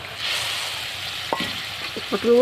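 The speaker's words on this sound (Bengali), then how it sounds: "দিয়ে দিলাম পটলগুলো" Pointed gourd (parwal) dropped into a hot pan of water and oil for a Bengali curry, a soft hissing sizzle with a few light clinks and stirring knocks, close by.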